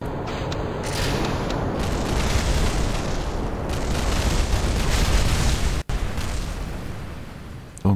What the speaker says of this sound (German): Gleich explodieren die großen Antriebe.